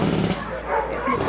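A dog at a shelter for homeless animals gives a quick couple of barks and yips, close by, with voices around it.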